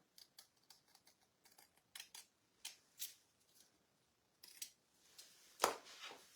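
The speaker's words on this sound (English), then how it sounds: "I'm going to trim this down" Scissors trimming a paper furniture transfer for a basket project, heard as a quiet series of short, separate snips at an irregular pace, with a sharper, louder cut near the end.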